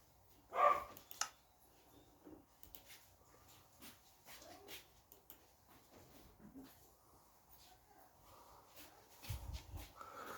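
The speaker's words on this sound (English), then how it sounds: "that's why the dogs are barking" Dogs in a house bark and whimper in the background, a sharp louder bark early on followed by scattered softer yelps and whines, fairly faint and distant.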